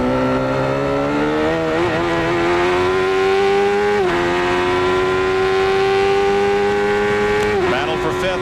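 1993 CART race car at Road America, its engine screaming loud and close, pitch climbing and then dropping sharply at each of several gear changes, with commentary over it.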